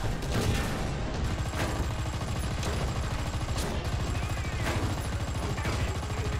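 Tank combat in a video game, with dense rapid gunfire and repeated sharp cracks over a constant loud engine-like rumble, steady and close throughout, no clear speech.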